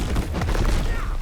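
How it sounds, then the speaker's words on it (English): Volcanic Eruption skill explosions in the action RPG Titan Quest 2 pop repeatedly in a loud, dense cluster of booming thuds, rolling on without pause as a voice talks underneath. "See how those little explosions are going off?"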